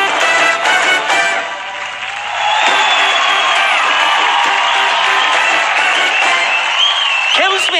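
Loud studio audience applause at a comedy show swells with cheers and whoops, a crowd clapping continuously while voices call out over it.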